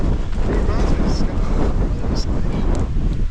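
Wind rushes across the open highlands of Grayson Highlands State Park in Virginia, on the Mount Rogers loop, buffeting the microphone in a constant, rumbling, gusty roar.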